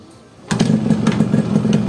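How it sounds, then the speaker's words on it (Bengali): A Yamaha RX 100 motorcycle, Indian version, fires up on a single kick and settles straight into a steady, close two-stroke idle that runs alone without any talk. "গাড়ির কিকে এক কিকে স্টার্ট হয়,"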